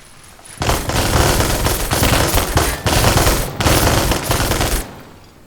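Sustained close-quarters gunfire in the WWII game Gates of Hell: Ostfront, with walking fire on: dense, loud overlapping automatic bursts rattling almost without pause, broken by brief gaps before the fire resumes.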